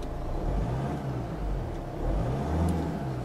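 Kia Sportage family car engine, a low, soft, steady drone with gentle swells in pitch, quiet and unremarkable with no voices.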